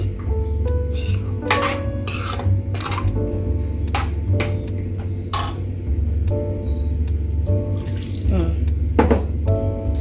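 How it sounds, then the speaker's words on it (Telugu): Water poured from a mixer jar into a pan of paneer butter masala, a steady close splashing and trickling with a few metallic clinks against the pan throughout. "ఆ వాటర్ని అలానే వేస్తున్నాను"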